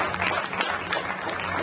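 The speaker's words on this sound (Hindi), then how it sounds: "बस थोड़ी सी जहमत उठा के हाथों को उठा दीजिए और ताली बजा दीजिए।" An audience at a Ghosi community state-level talent award ceremony bursts into sustained applause, a dense wash of clapping hands filling the hall throughout.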